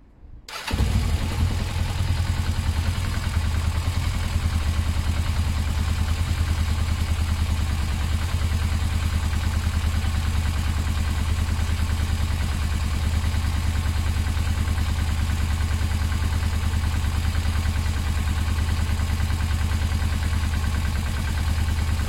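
A motorcycle engine with its airbox partly fitted to restrict airflow and no engine knock catches near the start, then runs at a loud, steady idle with a constant throb and mechanical clatter for the rest of the clip, with no talking.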